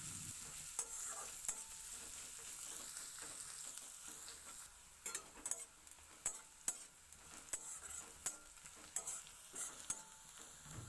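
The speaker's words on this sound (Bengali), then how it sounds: "পেঁয়াজের সাথে একই সাথে একটু লাল লাল করে ভেজে নেব।" Garlic and onion fry in a pan with a soft, continuous sizzle, while a spatula stirs them, making repeated sharp scrapes and clinks throughout.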